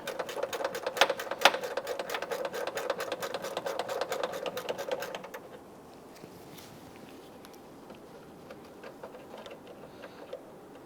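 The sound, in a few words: gear wrench ratcheting on Toyota Camry hood lift support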